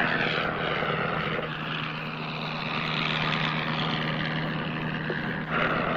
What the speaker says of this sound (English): on his first instructional flight in an Avro 504